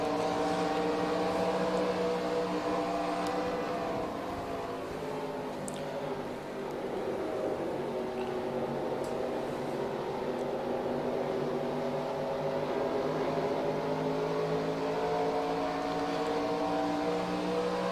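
Stock car engines roar in NASCAR Racing 2003 with a 1984 season mod, cars running three wide in a race; a continuous, loud, harmonic engine whine rises and falls slightly throughout, with no talking.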